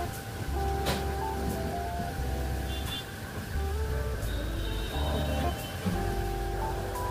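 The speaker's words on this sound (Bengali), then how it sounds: "হাওয়ার আওয়াজ শুনতে পাচ্ছেন।" An evening wind blows outdoors under a cloudy sky, giving a steady broad whoosh with rustling, gusty swells. Faint tonal background sounds sit beneath it.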